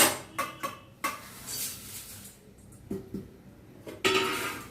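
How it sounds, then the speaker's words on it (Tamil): Dry ingredients clatter and scrape into an iron kadai before high-flame roasting, a few sharp metallic knocks and clinks close by, then a softer rustle and a final bright clatter. "இப்போ இது எல்லாத்தையுமே வந்து இந்த இரும்பு கடாயில் ஒன்றா போட்டுக்கலாம்."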